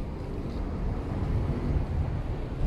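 Light outdoor wind on a mild day of about 10 degrees, heard as a steady low rushing buffeting the microphone, continuous and fairly loud, with no talk.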